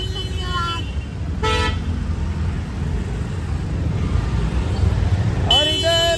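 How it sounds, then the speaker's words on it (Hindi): Car horns toot repeatedly over a steady, loud roar of congested road traffic, with several short bursts and a longer blast near the end. "बहुत ट्रैफिक है इधर, देख सकते हो"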